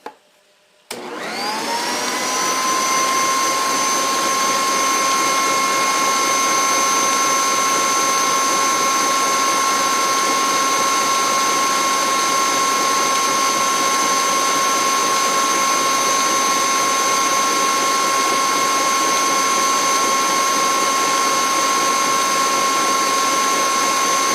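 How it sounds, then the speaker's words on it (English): Electric hand mixer whirring steadily at high speed through thin, runny hot chocolate, a loud continuous whine that starts abruptly and holds unbroken for over twenty seconds. "the mixer beats it really high up the sides"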